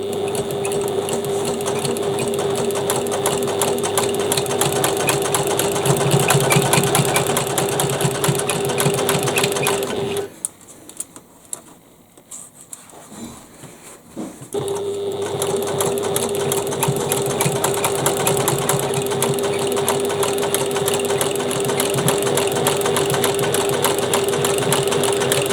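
A loud, close sewing machine hums steadily, joining a bag gusset with a quarter-inch seam, pausing for a few seconds midway and then running on continuously.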